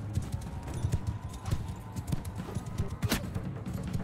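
Horse hooves galloping in Mount & Blade II: Bannerlord, a fast continuous drumming of hoofbeats at moderate level with a sharper clatter near the end, no talking.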